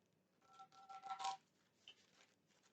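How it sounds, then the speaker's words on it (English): A deck of tarot cards is shuffled by hand at close range, a quiet burst of soft riffling flutters lasting about a second, followed by a brief faint rustle. "Let me shuffle these cards."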